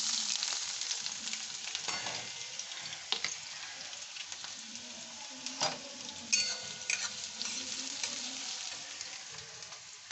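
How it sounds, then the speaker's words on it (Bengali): Chopped onion fries in hot oil in a wok, a steady close sizzle with occasional clicks and stirring scrapes, no talk. "কড়াইতে তেল বসিয়ে দিয়েছি। এখন এই পেঁয়াজ কুচনোটা দিয়ে দেব"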